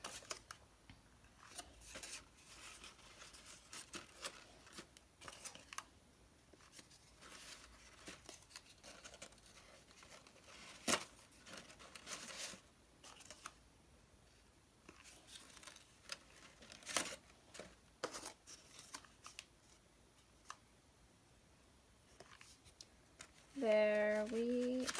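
Scissors cut paper petals for a dahlia paper flower, soft close snips and rustles spread steadily under faint room tone, ending with a brief louder handling noise.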